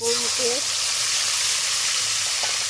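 Whole cumin seeds and bay leaf sizzle steadily in hot oil, a loud, close, continuous frying hiss with a brief voice near the start.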